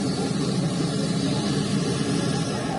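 A continuous broadband roar from an aircraft on the runway at Kabul airport, moderately loud and steady throughout, with no voices.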